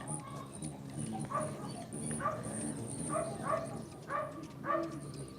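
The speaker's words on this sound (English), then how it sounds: "Well, that's a lot of barky dogs around here." Several neighbourhood dogs bark at night at a distance, with repeated bark bursts spread across the clip over a steady background hum, faint and overlapping rather than close.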